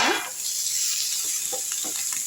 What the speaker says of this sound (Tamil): அடுத்து தக்காளி போட்டுப்போம் சும்மா லைட்டாக வதக்கிட்டா போதுங்க